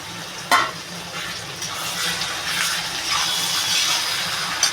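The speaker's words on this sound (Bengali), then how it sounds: "আমি এবারে টমাটোর আর কাঁচা লঙ্কাটা ঢেলে দেবো" Tomato and green chilies go into chicken frying in a pan for Bengali chicken kosha, producing a continuous close sizzle and hiss with a short sharp clatter near the start, no voices.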